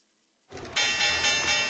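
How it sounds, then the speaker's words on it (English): A bell rings sharply at the market open, starting with a short strike and then swelling into a loud, sustained metallic ringing with a bright, shimmering tone that carries on without a break. "There's our bell."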